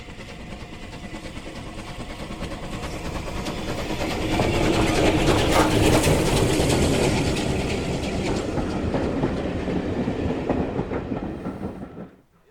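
LMS steam locomotive hauling the annual Great Britain rail tour train over the South Devon banks, a steady rumbling train passage that swells in the middle and carries on with clattering wheels before cutting off.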